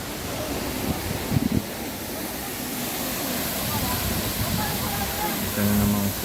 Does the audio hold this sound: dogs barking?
no